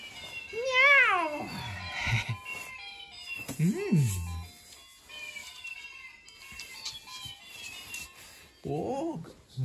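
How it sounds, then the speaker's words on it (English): A cat meows at a mini zoo during a school outing, with several rising and falling cries up close, mixed with children's voices and background chatter. "Oh, where's your cat? I heard the voice of cat."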